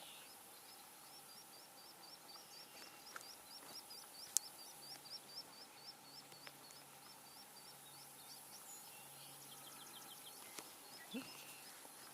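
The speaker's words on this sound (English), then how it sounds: "think I just heard a swamp sparrow." A swamp sparrow gives faint, distant trills of evenly spaced, repeated chirps, one long series early and a shorter one near the end, over a quiet outdoor background of insects and low hum.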